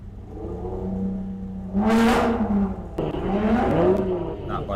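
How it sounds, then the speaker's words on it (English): Lotus race car at a British Sprint Championship event at Llandow, its engine revving hard as it passes with a rising and falling pitch, loud and fairly close, with a brief gear change midway. "That, by the sounds of things, is Gary Hopkins in the Lotus"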